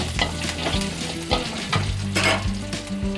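Green chillies and whole tempering spices go into hot oil for a Bengali rohu fish kalia, giving a close, steady sizzle broken by several bright crackling bursts and a few stirring knocks, with music playing beneath.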